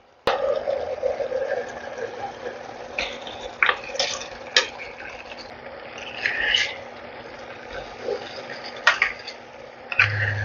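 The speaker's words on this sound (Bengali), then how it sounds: "দেখুন ঝোলটা আমার ফুটে উঠেছে এবারে আমি আলুটা এখানে অ্যাড করে দিচ্ছি" Potato pieces are dropped into boiling white gravy in a pot for dum aloo, making scattered splashes, clinks and bubbling near at hand, with a steady low hum underneath and a few sharper knocks.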